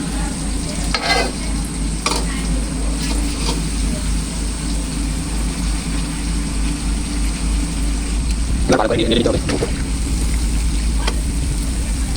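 Green chili and onion frying and being stirred in a pan, a steady sizzle with spoon scrapes against the metal over a low constant hum, with a louder clatter near the end.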